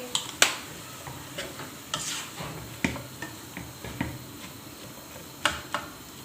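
A spatula stirs chilli sauce into chicken tikka fried rice in a pan, making scattered faint scrapes and clicks over a low sizzle, with no voices.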